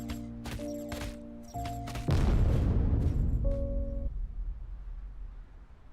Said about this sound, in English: The sound of an explosion rang out outside the door, and the ground shook violently.